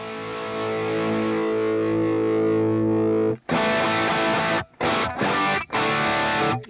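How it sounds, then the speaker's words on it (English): Guitar amp tone through a Fractal FM3 with a faint delay: a distorted chord rings and swells for about three seconds, then choppy, strummed distorted bursts follow with brief gaps, loud and close. "If you listen carefully, you should hear a faint delay."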